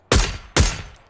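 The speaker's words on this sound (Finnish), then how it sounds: "Ai nyt ammutaan minua!" Gunfire aimed at the player in the video game PUBG, with two sharp, loud shots about half a second apart, each ringing out with a short tail.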